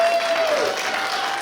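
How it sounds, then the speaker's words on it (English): A wrestling crowd in Worcester applauds wrestler Becca after her opening contest, with steady, dense clapping and crowd noise filling the short stretch at an even, moderate level. "the Worcester crowd showing their appreciation for Becca here in the opening contest"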